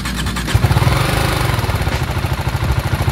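A motorcycle engine catches and settles into a rough, pulsing idle, loud and close, with no talking.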